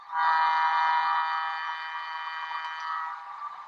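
Bachmann ALCO S4 model locomotive's sound decoder blowing its whistle: a steady, loud horn-like tone held for several seconds, alone, from a small speaker.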